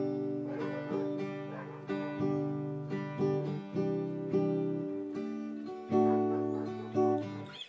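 An acoustic guitar strums the chords of a song slowly, each chord ringing clearly in a relaxed down-up pattern with brief pauses between changes, played alone.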